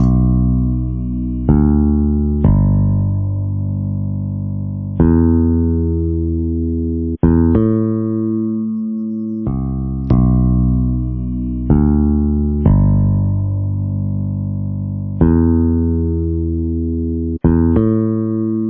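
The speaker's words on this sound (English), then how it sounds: "So this is the verse bass, and it sounds like this." A hip-hop verse bass line produced in FL Studio alongside live drums and guitar, with deep sustained bass notes repeating in a steady looping pattern, loud and played alone without other instruments.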